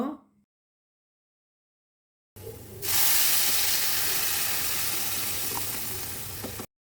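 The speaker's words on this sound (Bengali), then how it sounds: "এবার আমি ডালটা বাগার দিয়ে দিব।" Hot tempering poured into mung dal made with katla fish head: after a brief pause, a loud, sudden burst of sizzling and hissing that settles into a steady, close frying crackle lasting several seconds.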